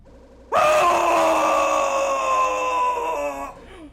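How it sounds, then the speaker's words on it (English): Tormented screaming from the Devil May Cry video game, a loud sustained wailing, groaning voice that bursts in suddenly and holds for about three seconds before trailing off. "His entire pockets are literally screams of the damned."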